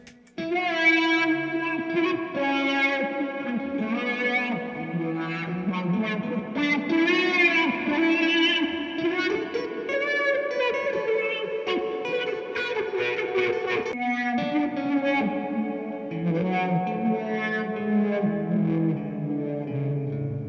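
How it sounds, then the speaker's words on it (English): A Boss SY-1 guitar synth pushed through a Land Devices HP-2 fuzz and reverb plays a continuous, heavily distorted melodic line, loud and buzzing with rich harmonics and a washy reverb tail, sustained without pause. "Let's add some fuzz."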